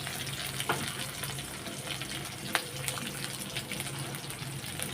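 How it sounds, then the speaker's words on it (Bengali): Garlic, onion and green chilies frying together in oil in a home kitchen, a steady crackling sizzle with a few sharper pops, close and unbroken, no voices. "রসুন আর পেঁয়াজটা একসাথেই দেবো তো দিয়ে দিলাম এবার আমি কাঁচা লঙ্কাগুলোও দিয়ে দেবো"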